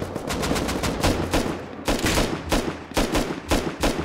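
Gunfire in the survival game Rust: rapid automatic bursts of sharp shots in quick clusters, with short pauses between volleys, loud and close, with no talking.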